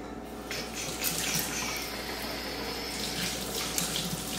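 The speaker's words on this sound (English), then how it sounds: "First thing I'm gonna do is wash my hands because Rona is no joke." A sink tap runs steadily as hands are washed beneath it, a close, continuous splashing rush of water with slight shifts in tone as the hands move through the stream, no voices.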